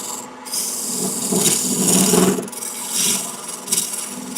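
Square carbide rougher cutting into a spinning chunk of wood on a lathe while turning a bud vase, a close, continuous scraping rasp that swells and dips in short pulses.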